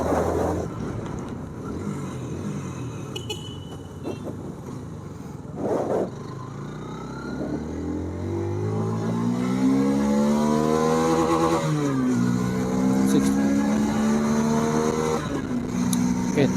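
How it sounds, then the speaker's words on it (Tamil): A 2025 Hero Xtreme 160R motorcycle accelerates hard in third gear, its engine note climbing steadily in pitch and growing louder as revs rise, with some wind noise throughout. "தேர்ட் கியர்லேயே நீங்கள் பார்த்தீங்கன்னா ஆக்சுவலாக வந்து 70க்கு போயிடுச்சு."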